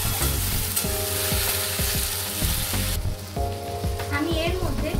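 Ginger garlic paste with cumin and green chilies hits hot oil for a Bengali fish head and cabbage dish, a loud, dense sizzle and crackle up close, with utensil scrapes and light stirring throughout.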